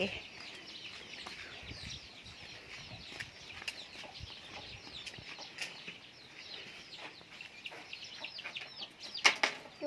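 Chickens cluck and chatter continuously at a moderate distance at feeding time, with occasional wing flaps and a few sharper calls near the end.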